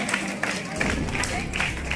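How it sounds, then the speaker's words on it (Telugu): A crowd at a school Independence Day ceremony breaks into applause, a burst of many hands clapping in a lively patter close by, with voices audible through it. "ఒకసారి బిగ్ క్లాప్స్"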